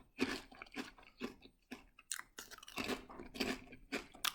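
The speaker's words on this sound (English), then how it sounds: "They're quite a thin crisp, but they've got a real crunch to them." Thin, crunchy Tyrrells Mediterranean Herb crisps being chewed up close, with a rapid series of sharp, crackly bites and crunches in uneven bursts, fairly quiet overall and with no talk.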